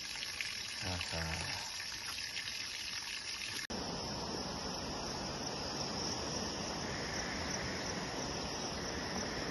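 After a few seconds of faint voices, a sudden steady rush of flowing river water takes over, loud and continuous to the end.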